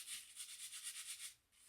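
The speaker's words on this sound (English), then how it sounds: "just start going into your face to pick up some of that shaving cream, right? And start creating a lather." A synthetic shaving brush swirls shaving cream against a face to build lather, giving a soft, rhythmic, close-up hissing swish that pulses steadily for under two seconds.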